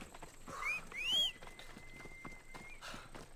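A horse gallops in Assassin's Creed Odyssey, its hooves beating a quick, regular clip-clop with a neigh and whooshing game effects over quiet ambience.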